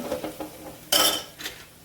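Masala of ambari spice mix and red chilli powder being stirred in a pan for masoor dal bhaji, with a metal spoon scraping and clinking against the pan in short repeated strokes, close and fairly loud.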